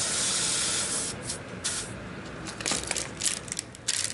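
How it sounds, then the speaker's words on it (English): An air compressor pushes air into the tire of an ANCHEER electric bicycle, giving a steady close hiss of rushing air that wavers with brief louder spurts, with no talking over it. "So I'm gonna turn my compressor on."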